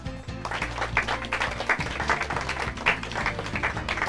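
Audience applause at a Portuguese-language school reading competition, steady dense clapping heard close, with a low musical tone sounding underneath throughout.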